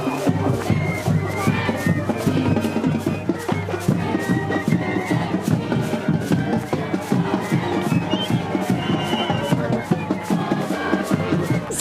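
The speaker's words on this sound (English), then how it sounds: "A whole crowd of tailgaters for Ryan to entice" A large crowd of tailgaters gathered outside a stadium, dense continuous hubbub of many voices with shuffling and occasional cheers, loud and close throughout.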